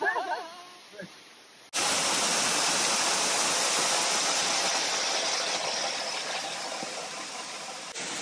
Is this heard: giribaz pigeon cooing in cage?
no